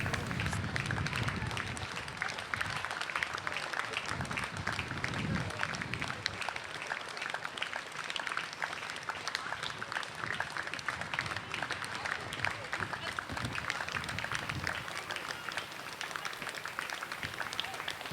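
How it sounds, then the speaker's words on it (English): Spectators along a parade route stand and applaud. The clapping is continuous and somewhat distant and forms a broad wash of sound, with crowd noise mixed in. "The crowd on its feet, applauding"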